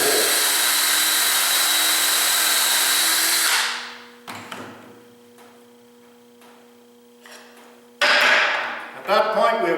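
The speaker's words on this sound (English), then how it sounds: "we will proceed to drill the second hole." A power drill bores a 1/4-inch dowel hole through a dowelling jig in one long steady whine that winds down, followed by faint clicks and shuffling, then a second short burst of drilling, all close up.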